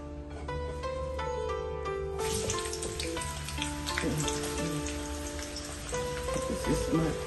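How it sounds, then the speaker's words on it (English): Chopped onions hit hot vegetable and sunflower oil for an asun dish. A steady, fairly loud sizzle begins about two seconds in and continues over background music. "I have my oil, vegetable oil, sunflower oil in here, and I'll be adding my onions."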